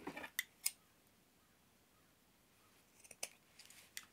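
Scissors snipping a strip of coffee-stained cheesecloth, a few quiet close crisp cuts at the start and another cluster near the end, separated by near silence.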